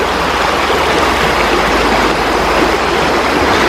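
A wide river rushes over large stones in the Auvergne mountains, a loud, steady broadband roar of flowing water heard close and continuous.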